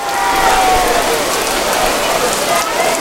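Steady rain hisses down over an outdoor baseball game as play halts for a rain delay, a dense continuous wash with faint crowd murmur and a thin tonal whistle running underneath.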